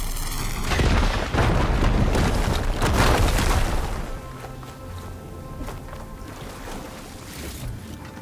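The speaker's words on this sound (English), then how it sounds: "Should be able to blow up that fire gleam." A firegleam deposit blows up in the video game Horizon Forbidden West, a loud booming blast with a roaring rumble lasting a few seconds before settling into quieter low debris and ambience.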